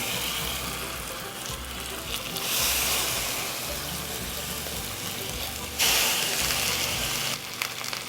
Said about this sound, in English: y'all can hear that sizzle.